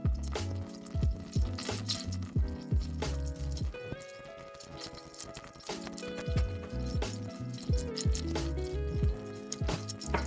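Water cooking off in a few tablespoons of hot oil in a pan, crackling and popping in irregular bursts with a continuous sizzle beneath, close and fairly loud, no voices.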